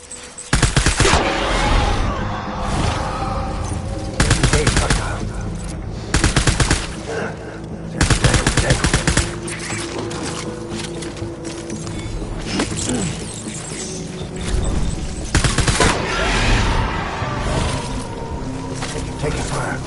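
Gunfire in Death Stranding: dense, loud bursts of automatic fire that keep going almost without a break, layered with explosions and other game sounds, with a voice speaking over parts of it.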